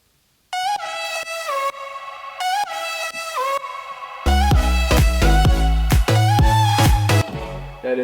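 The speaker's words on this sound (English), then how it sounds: "Last, we put this little massive synth on top of it, just to give it a little bit more sparkle with the white noise edge on top." Layered synth lead with reverb and a white-noise edge: a bright melodic line plays alone at first, then a heavy full mix with deep bass and rhythmic chords joins it halfway through, loud and continuous.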